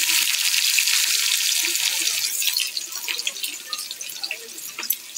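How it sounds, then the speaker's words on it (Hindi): Onions frying in hot oil in a kadai, a bright, steady sizzle that is loudest at first, then settles into softer crackling with scattered pops. "कड़ाई रे एबे आमे तेल गरम करिबा। सेथरे आमे प्याज पकाई देबा।"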